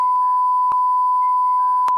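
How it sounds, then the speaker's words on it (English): A buzzer wired to a relay and triggered by a PIR motion sensor emits a steady high tone, with clicks marking pulses about every half second, clear and close with nothing else around. "The buzzer, connected to the relay, emits beeps to indicate human presence in the area."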